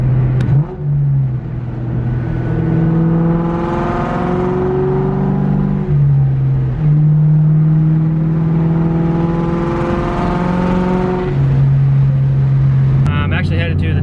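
A car with a new SLP Loudmouth exhaust revs in two long, loud sweeps, each rising and falling from a deep idle, heard up close with a brief voice at the end.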